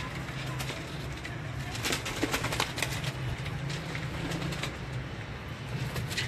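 Several pigeons coo at a Lahore breeder's loft, the low calls faint and repeated under a steady background, with occasional rustling and clicking nearby.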